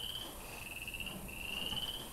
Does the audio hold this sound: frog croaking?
yes